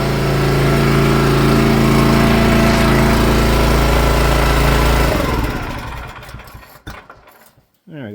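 A wood splitter's small engine runs loud and close with a steady buzzing drone, then is shut off and winds down over a second or two, leaving faint clicks and handling noises.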